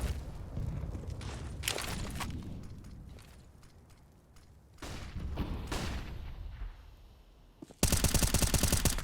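AWP sniper rifles fire in a Counter-Strike match: a few sharp, separated cracks early on, then a loud burst of rapid shots at the end, over quiet game ambience.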